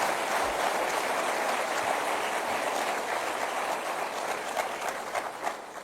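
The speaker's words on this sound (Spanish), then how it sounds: "Denle un aplauso." A church congregation applauding together, a steady wash of clapping that holds evenly throughout and thins slightly near the end.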